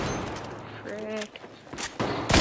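Rapid automatic gunfire in the video game Battlefield 4, several sharp bursts close by with a player talking over parts of the action.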